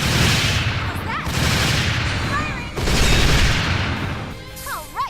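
Loud gunfire in the Dark Rose Valkyrie video game, dense fusillades of shots and booms in two long bursts, close and sustained, with brief chirping effects between them.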